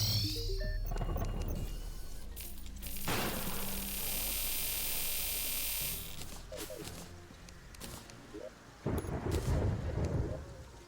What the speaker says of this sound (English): Did not realize it was raining like that.